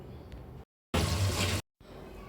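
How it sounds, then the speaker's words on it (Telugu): Water pours steadily into a pot of boiling mutton curry for under a second, a loud broadband rush with brief quiet gaps before and after. "ఉడుకుతున్న మటన్లో రెండు గ్లాసుల నీటిని యాడ్ చేసుకోవాలి"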